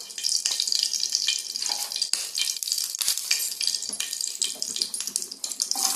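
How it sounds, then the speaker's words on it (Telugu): Coconut pieces fry in a pan with a steady crackling sizzle that runs throughout, bright and fairly close, with a few soft clinks and stirring sounds and no talking. "ముక్కలు అయితే వేపిస్తున్నాను."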